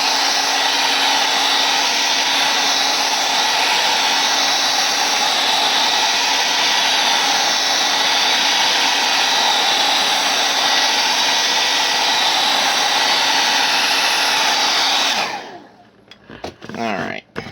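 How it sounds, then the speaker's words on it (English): A hair dryer blows steadily and loudly at close range for about fifteen seconds, drying spray bottle art, a constant airy roar with a faint steady whine. It then shuts off, leaving handling noises. "I'm going to go ahead and blow dry this to get the effect that I'm wanting"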